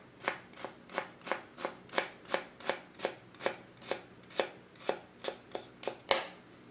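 A knife slices vegetables at an angle into julienne on a cutting board, about seventeen crisp, evenly spaced chops in a steady quick rhythm, close and quiet with no talking.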